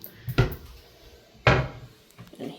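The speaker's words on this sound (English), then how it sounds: "this does have a sliding door" A sliding closet door in a Disney Wilderness Lodge Copper Creek villa rolls open with two sharp wooden thuds about a second apart, followed by a softer knock, close and clear in a quiet room.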